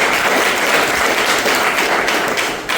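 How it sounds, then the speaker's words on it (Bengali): Audience applause at a career counseling session held at a garments company, a dense sustained burst of many hands clapping, loud and close, tapering slightly at the end. "তার জন্য আরেকটা হাততালি"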